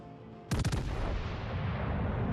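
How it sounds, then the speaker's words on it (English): Main guns on a warship in World of Warships Legends fire in a sudden volley of several rapid booming blasts, then a heavy rumble that lingers and fills the rest of the scene. "We'll use main guns on this Indianapolis here."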